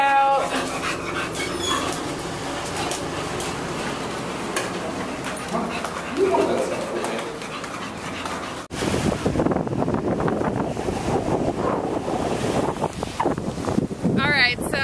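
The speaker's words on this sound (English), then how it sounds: "it's a crazy windy day and raindrops are hitting my face as I speak" Strong wind buffets the microphone outdoors on a rainy day, a loud continuous roar and rumble, with a dog barking and people talking at times underneath.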